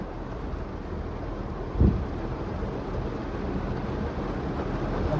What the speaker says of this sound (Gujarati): બહાર બહુ જ વરસાદ છે.